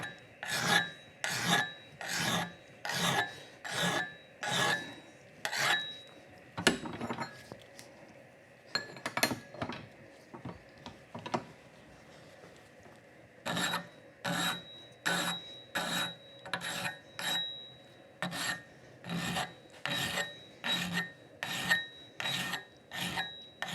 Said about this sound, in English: I can't file the inside of that